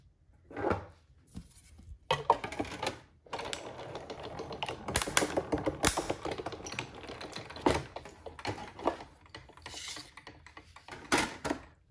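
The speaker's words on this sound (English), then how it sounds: "Since I have my die cutting machine here, I'm also going to cut one of the layered Christmas trees." A die cutting machine presses layered Christmas tree shapes and a small trunk out of paper, giving a steady close crunching and grinding with sharp clicks and rolling bursts throughout, with no talking.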